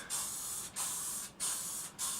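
Black spray paint sprayed indoors from an aerosol can, three loud steady hissing bursts of about half a second each, close by, with short pauses between them and no talking.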